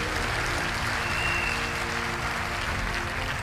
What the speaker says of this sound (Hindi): मैं चाहूंगा एक बार तालियां जोरदार डॉक्टर श्री अशोक भाटिया जी के लिए।